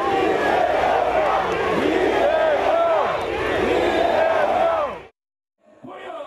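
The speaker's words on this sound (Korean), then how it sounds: "지지자들 사이에선 환호성이 터져나옵니다" Supporters of the Democratic Party roar and cheer loudly at a large outdoor anti-government rally in Gwanghwamun Square, Seoul, a dense sustained crowd din with shouts, cutting off abruptly before quieter voices return.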